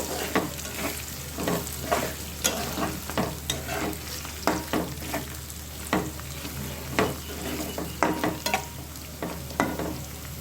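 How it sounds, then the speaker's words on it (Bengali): Soaked rice fries in ghee with four or five green chillies, and repeated spoon strokes scrape and toss the grains in a rhythmic pattern over a constant soft sizzle, close by, with no talking. "চালটা একটু ভাজা ভাজা হবে"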